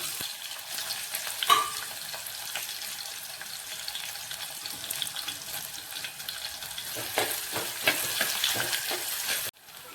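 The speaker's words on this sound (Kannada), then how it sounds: "ಸಾಸಿವೆ, ಕರಿಬೇವು, ಉಳ್ಳಾಗಡ್ಡೆ ಹಾಕ್ತೇನೆ." Mustard seeds, curry leaves and onion fry in two spoons of oil, giving a steady crackling sizzle with occasional stirring clatter and a brief louder pop.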